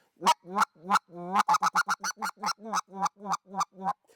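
Specklebelly goose clucks blown on an Anatra goose call, the ground-feeding note imitated as a quick run of about sixteen short, sharp, honking clucks in an uneven rhythm, loud and close with no talking.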